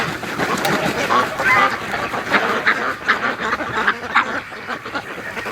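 A pet Muscovy duck being raised for charity makes soft, breathy hissing and quiet repeated calls close by, a run of short murmurs with a person talking faintly nearby.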